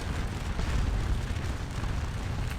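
Cannon fire in a Napoleonic-era video game battle at Quatre Bras, a dense, continuous low rumble of booms merging into a heavy roar without clear gaps and no speech.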